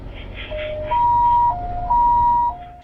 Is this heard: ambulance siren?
yes